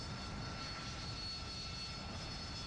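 A Little Bird helicopter flies in a video game, its engine a steady, continuous broadband drone with a faint high whine, constant and close throughout, with no talk.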